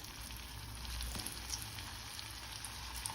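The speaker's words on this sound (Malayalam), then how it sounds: "ഇനി ബാക്കിയുള്ളതും ഇതുപോലെ ഫ്രൈ ചെയ്തെടുക്കാം" Tikki patties frying in hot oil in a pan, a steady dense sizzle with small crackles and pops throughout, close and continuous with no talking.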